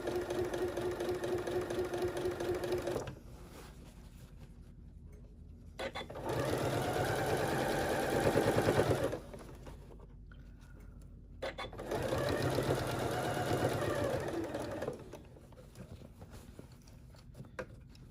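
A sewing machine stitching the lining of a Halloween treat basket runs in three close, loud bursts of rapid mechanical whirring, separated by quieter pauses.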